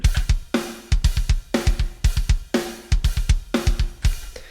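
A programmed MIDI drum backbeat plays with kick hits and a snare landing on beats 2 and 4, a tight, steady loop repeating several bars alone and up close.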